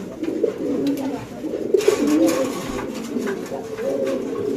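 Pigeons cooing close by among birds being handled at a pigeon market, a continuous chorus of soft overlapping coos with brief rustling.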